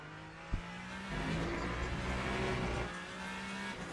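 A Ferrari hypercar engine in the Le Mans Ultimate racing game drones steadily at a distance, swelling for a stretch as it revs harder, then settling back to a quieter hum.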